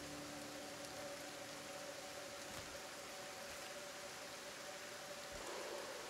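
Acid rain falls in the video game Kenshi as a constant soft hiss of rainfall, faint and even throughout, with no voices over it.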